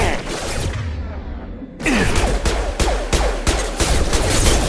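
Dense gunfire from the video game Mass Effect 2 cracks in rapid repeated bursts, loud and close, pausing briefly after an opening volley before resuming with sharp overlapping shots.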